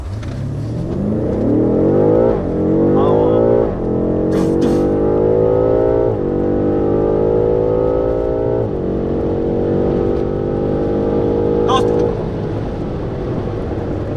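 A new 600-horsepower BMW M5 engine revs hard and accelerates from a standstill through several rising gear pulls, loud and close, with no talking.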